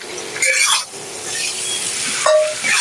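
Beef chow mein noodles sizzling in a hot pan while a utensil stirs and scrapes them, bursts of clatter rising over a steady loud hiss, close up with no talking.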